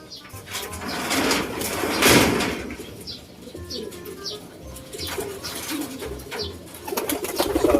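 Racing pigeons at a club loft coo and flutter nearby, with chirps and scattered clattering knocks around them and some background voices.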